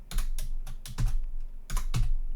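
Quick, uneven keystrokes on a computer keyboard as a terminal command is typed during a Raspberry Pi 5 home server setup; several close, crisp clicks come in short bursts with no talking.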